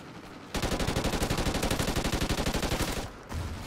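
Rapid automatic fire from an SA-805 rifle in the shooter game Call of Duty: Ghosts, a sustained loud burst of evenly spaced shots lasting about two and a half seconds, then cut off.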